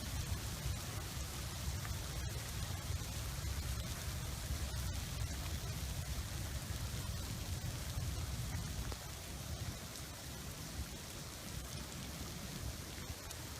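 Heavy rain pours down near a lake during a tornado, a steady dense hiss of water hitting the surface that stays loud and unbroken throughout.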